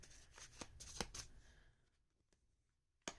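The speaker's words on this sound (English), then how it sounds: "Give this a good shuffle." Tarot cards being shuffled by hand, a quick series of crisp riffling snaps over the first second and a half, then quiet before one final sharp card snap near the end.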